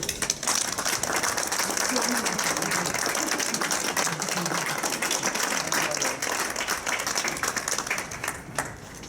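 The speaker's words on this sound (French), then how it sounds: "je propose d'ailleurs qu'on les applaudisse bien fort" Loud, sustained applause from a large audience, dense clapping filling the whole stretch with a steady roar that eases slightly toward the end.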